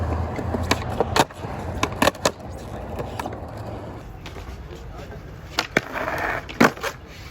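Skateboard wheels rolling on pavement with sharp repeated clacks of tail and trucks from tricks, fairly close, under a continuous rolling rumble.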